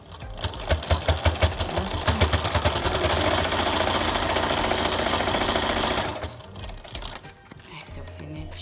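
A sewing machine stitching patchwork fabric for a table runner, starting with a few quick pulses then running as a fast steady mechanical whirr for several seconds before stopping, close and clear, with a voice talking quietly afterward.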